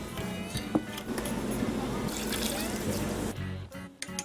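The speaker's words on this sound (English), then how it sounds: "Pour the brine on once it's simmered for 4 minutes" Sweet bread-and-butter brine pours steadily onto cucumbers and baby sweet peppers in a continuous splashing trickle, then stops abruptly and leaves a few faint knocks and clinks.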